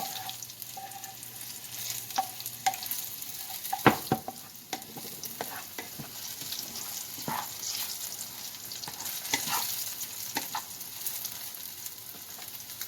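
Onions, ginger and garlic sauté over low heat in a pan, a soft continuous sizzle punctuated by irregular clanks and scrapes of a utensil, fairly quiet, with no speech.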